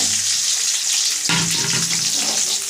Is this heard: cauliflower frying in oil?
yes